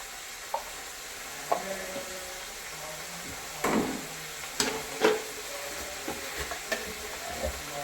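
Chicken sausage curry sizzles in a pan while a spoon stirs it, scraping and knocking against the metal in several sharp, irregular clatters over a steady background fry.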